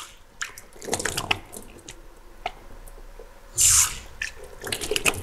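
Water splashes and drips as hands are washed during ritual ablution, with soft wet squishing and a brief louder gush of running tap water near the end, close and fairly quiet.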